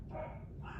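Dogs barking at someone walking past outdoors on a windy day, a single faint, distant bark or yip heard low in the background.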